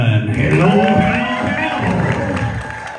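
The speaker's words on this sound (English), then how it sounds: "please give a big round of applause for the instant entertainer" An audience at a comedy hypnosis show in downtown Asheville claps and cheers for a performer, a dense, steady burst of applause with whoops, loud and close for about three seconds.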